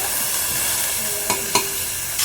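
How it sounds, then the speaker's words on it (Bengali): Cabbage stir-fried in a pan hisses with a steady close sizzle, broken by a few sharp scrapes and clinks of a spatula against the pan. "বাঁধাকপিটা দিয়ে ভালো করে ভাজবো"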